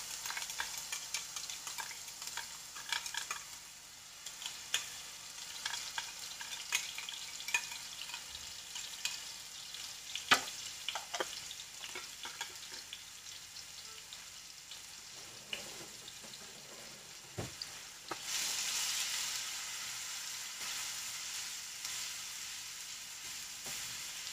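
A ground paste of cumin, garlic and onion fries in a pan for prawn curry, giving a steady sizzle with scattered stirring scrapes and a brief burst of louder hissing near the end.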